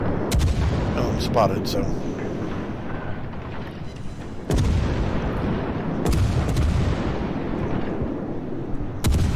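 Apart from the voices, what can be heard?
naval guns firing in video game World of Warships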